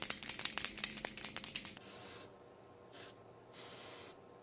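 Sephora Perfection Mist Airbrush Foundation sprays in a quick burst of rapid hissy pumps, then a few softer separate mist sprays after a pause, close and quiet.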